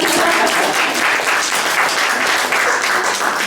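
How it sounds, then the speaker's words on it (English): Steady, dense applause from an audience, loud and sustained throughout without pause. "Now you clap."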